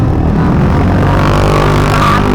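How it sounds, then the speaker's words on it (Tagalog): A motor tricycle's engine drones steadily as it drives on a road near Lopez heading into Gumaca, Quezon Province, with a loud, dense rumble and no talking. "Ang aming sasakyan po ay tricycle lang po, hindi kotse."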